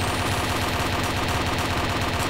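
Rapid machine-gun fire in a Warzone battle royale match, a dense, continuous, evenly rattling burst that stays loud and close for the whole stretch, with no talking.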